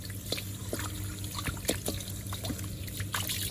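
Scraped, grilled pork leg being rinsed under water, with a steady trickle and splashing of liquid and scattered clatters close by, no talk.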